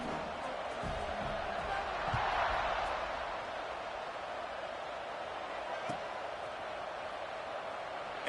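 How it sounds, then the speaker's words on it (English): A stadium crowd in a video game football match murmurs steadily in a broad, continuous wash, swelling briefly about a quarter of the way in, with no clear voices standing out. "this crowd is buzzing after that last score"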